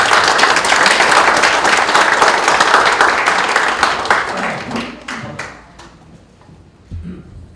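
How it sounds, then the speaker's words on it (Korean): An audience at a Korean policy seminar applauds with dense, loud clapping that thins out and fades into scattered claps. "여러분 큰 박수로 청해 주십시오"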